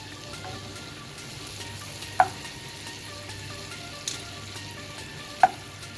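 Butter melting and sizzling in a pan as it is stirred, a soft steady crackle close by with a few sharp clicks of the utensil against the pan.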